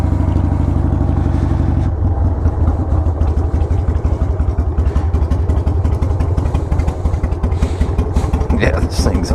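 A Harley-Davidson 883 Sportster Hugger motorcycle running close by after a repair, its low, lumpy V-twin rumble pulsing steadily and loudly, with a shift in tone around two seconds in as the bike gets underway.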